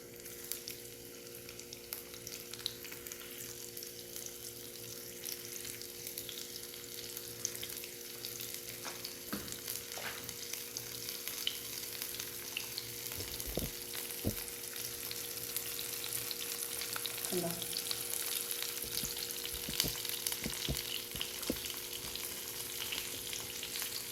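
Shrimp frying in a pan for a garlic shrimp dish, a continuous bright sizzle and crackle that slowly grows louder, with a low steady hum underneath and a few sharp pops and clinks from turning the pieces.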